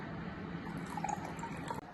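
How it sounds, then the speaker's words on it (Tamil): Sugar syrup being poured into a fruit drink being mixed, a soft, steady liquid trickle with faint drips, close and fairly quiet, lasting about two seconds. "நான் சுகர் சிரப் எடுத்து வச்சுருக்கிறேன் ரெடியாக அதை கொஞ்சம் ஊற்றுறேன்"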